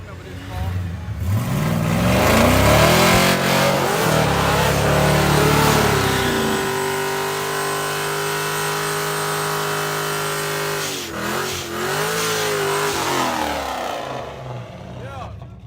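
A Ford Mustang engine revs hard at a race track, climbing and falling in loud, close sweeps through the first half, then holding a steady drone before another rise.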